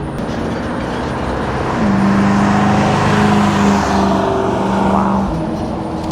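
A 1969 Camaro SS engine roars as the car accelerates hard and speeds past, the pitch climbing then easing, with steady road noise throughout.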